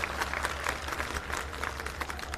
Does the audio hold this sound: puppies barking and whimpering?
no